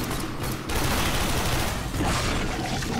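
Dual pistols fire in the video game Warframe as a dense, continuous stream of rapid shots, loud and close, filling the whole stretch without a break.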